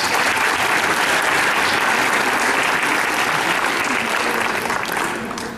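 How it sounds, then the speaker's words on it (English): Audience applause for a second-place cosplay contest winner at Origins 2015, dense sustained clapping from a crowd that holds strong for several seconds and then begins to taper off. "Give him a round of applause."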